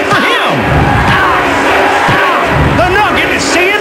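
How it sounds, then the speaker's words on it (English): A dense, loud crowd roars and cheers continuously during a WWF Attitude wrestling video game match, the shouting swelling in waves without a break, with announcer commentary layered over the noise. "Why are they cheering for him?"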